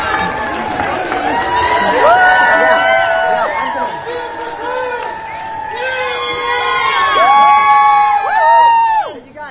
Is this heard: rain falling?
no